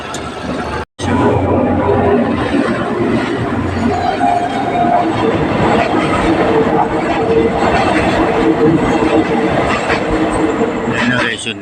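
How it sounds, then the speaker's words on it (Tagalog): A train passes close by at six in the morning in the Philippines, a steady loud rumble with clickety-clack of wheels on rail that fills the whole stretch after a brief cut near the start. "Yun naman na yung train."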